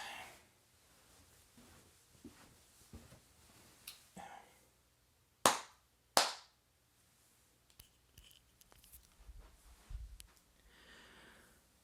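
Two sharp hand claps ring out close together, meant to trigger The Clapper sound-activated switch, standing out loudly against a quiet room with faint small clicks and handling noises around them.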